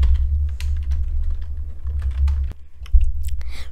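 Code is typed on a computer keyboard in quick, uneven bursts of close clicky keystrokes over a low steady hum, with no one speaking.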